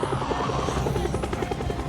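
Helicopter in the video game Project Zomboid, its rotor chopping in a fast, steady rhythmic pulse, fairly loud and continuous with no voices over it.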